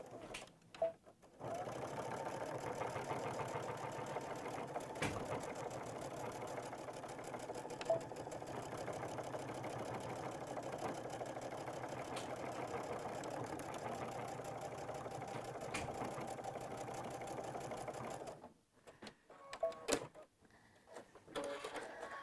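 Embroidery machine stitching steadily, a close, continuous mechanical whir with a fast rhythmic needle patter that runs for most of the stretch, then stops, leaving quieter handling noises.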